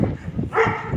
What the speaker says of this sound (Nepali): कुकुर भुकिरहेछ पप्पी।